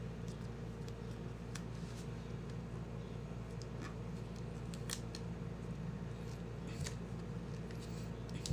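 Unboxing a Romoss PEA40 power bank: steady close rustling and scraping of the package being opened, with scattered sharp clicks and crinkles throughout.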